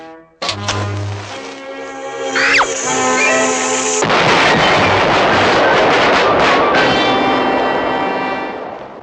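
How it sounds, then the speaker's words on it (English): A cartoon skyrocket: a sputtering, fizzing fuse with a rising whistle, then a loud explosive blast that turns into a long roaring, crackling rush which fades at the end, all playing as bright animated sound effects. "Now, light the fuse and I'll blast off."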